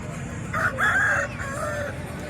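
A rooster at a hen market in Bhadradri Kothagudem crows once in a drawn-out, wavering call, moderately close, over low market background noise.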